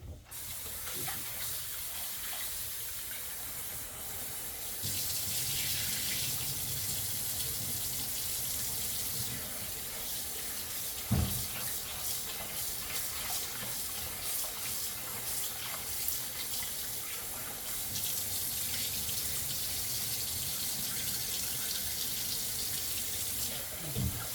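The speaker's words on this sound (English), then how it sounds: "I'm going to rinse the mung beans multiple times until the water is as clear as possible" Steady stream of tap water running into a sink while mung beans are rinsed, continuous and close, with brief splashing bursts as the beans are stirred.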